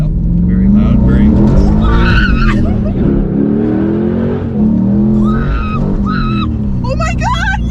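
A 500 hp LS V8-swapped Porsche 911 roars loudly up close, with the engine revving and tires squealing as people talk and shout over it.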